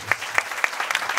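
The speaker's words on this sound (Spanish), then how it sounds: "nuevamente un aplauso para todos ellos" Brief applause from an audience at a community health clinic recognition event in Santa Rosa de Oreamuno, Costa Rica, with a few distinct claps standing out over a steady patter of hands.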